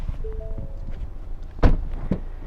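Rear passenger door of a Ford Bronco Sport Badlands opening, a short mechanical unlatch followed by a dull thunk and a second softer knock, close by.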